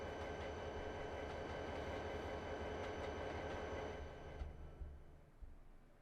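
A train rolls past in the Trainz Simulator 2 video game on the Razorback Classic route, with dense rumbling wheel noise and clatter that thins out and fades as the last wagons go by.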